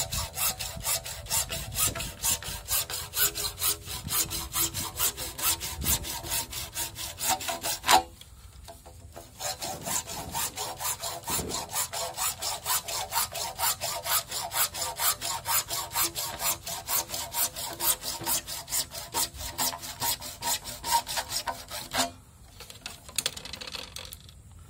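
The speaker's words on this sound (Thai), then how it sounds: "โดยเราจะใช้เลื่อยนะครับผ่าท่อ PVC ตามยาวนะครับเป็น2แถว" A hand saw cuts lengthwise along a PVC pipe in fast, steady back-and-forth strokes, close and loud, with a short pause near the middle and another near the end.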